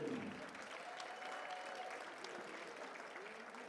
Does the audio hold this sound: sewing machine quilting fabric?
no